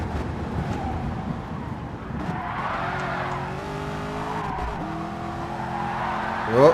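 Supercar tyres skid and slide around Kyoto Driving Park in a racing game, with a steady engine drone under long, wavering squeals that rise and fall, then a sharp closing squeal.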